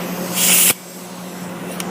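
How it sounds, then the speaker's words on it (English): Spray gun laying a coat of primer onto MDF: a loud, close burst of airy hiss that cuts off sharply, followed by a quieter steady hum and a brief second puff. "we're going to spray a little"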